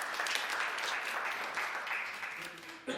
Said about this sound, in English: If we can please give him a round of applause.